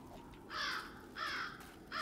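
Crow in the survival game 7 Days to Die giving two loud, raspy caws and the start of a third, evenly spaced and close, with no voices.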